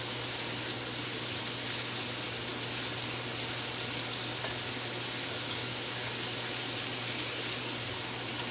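Oxtails sizzling and frying in a pan while being stirred and flipped, a steady dense hiss with a constant low hum underneath, no talking.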